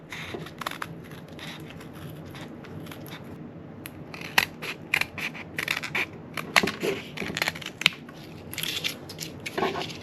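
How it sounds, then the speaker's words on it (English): Close, crisp snipping of scissors trimming stiff paper mache in irregular bursts, with small crunching crackles between cuts. "I'm going to go ahead with my scissors and just trim that"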